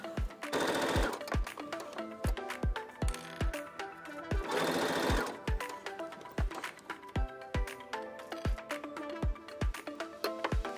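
A Brother electronic sewing machine for beginners runs steadily, its needle stitching in a fast even rhythm of sharp ticks with two brief louder bursts of mechanical whir, fairly quiet and close with no talk.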